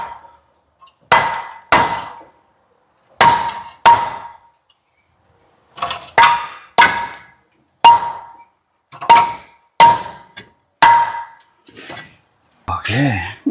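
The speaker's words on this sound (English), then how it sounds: "need one of these soft blow hammers" Soft blow hammer striking a stuck brake rotor on a Dodge Ram front axle: about a dozen sharp, ringing metallic blows, mostly in pairs, separated by short silences, loud and close.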